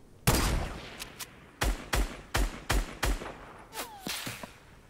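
Sniper rifle gunfire in Fortnite, a burst of about eight sharp, loud shots in an irregular rhythm with short gaps, ringing close and alone without talk.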